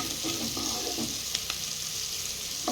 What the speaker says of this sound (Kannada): ಎಲ್ಲ ಚೆನ್ನಾಗಿ ಬ್ರೌನ್ ಕಲರ್ ಬರೋ ಗಂಟ ಫ್ರೈ ಮಾಡಿ